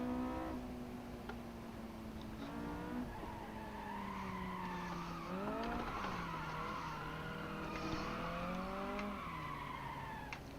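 A car engine in the Gran Turismo Sport racing game revs and shifts through gears, its rising and falling pitch joined by tire squeal as the car skids, steady and moderately quiet throughout with no voices.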